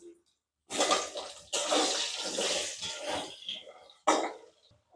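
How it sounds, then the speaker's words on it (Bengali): Potatoes fry in hot oil left from frying rohu fish, with sharp bursts of loud hissing sizzle that swell and fade between brief quiet gaps. "ওই তেলের মধ্যে আলুগুলো ভেজে নেব।"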